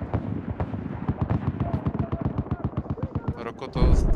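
Rapid bursts of gunfire from a ship in a Battlefield match on the Oman map, a steady run of loud, close shots with a heavier blast near the end, under players' chatter.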